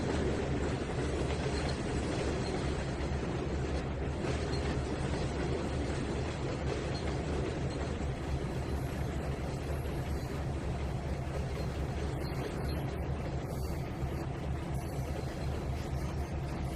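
A long train in the Trainz 2019 simulator game rumbles continuously with a dense, steady mechanical roar and rolling rattle throughout, unbroken and fairly loud, with no voices.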